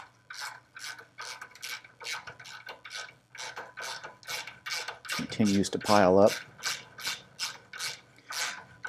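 A hand tool is run down rusty threads to repair them, giving a steady rhythmic ratcheting scrape, close and repeated about twice a second, with someone speaking briefly in the middle.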